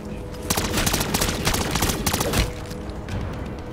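Rapid bursts of automatic gunfire crackle in a Call of Duty MW3 zombies match on PS5, loud close volleys lasting a couple of seconds before easing to a quieter background.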